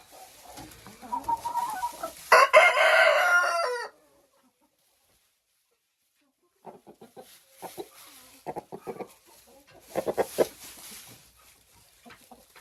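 A rooster crows loudly and close for a couple of seconds, followed by a pause, then chickens cluck in scattered bursts.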